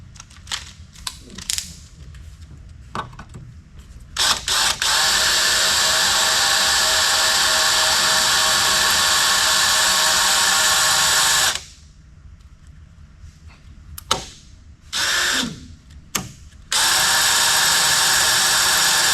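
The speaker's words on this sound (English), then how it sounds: "we're going to drill those real quick right now" A power drill whines loudly in long bursts, drilling holes in a Cessna 172 instrument panel, stopping and starting with short gaps and small clicks between runs.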